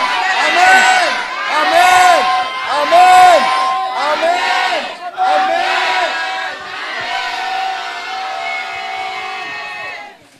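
A church congregation shouting and cheering together in praise, loud sustained waves of joyful cries, with rising and falling shouts over a steady roar.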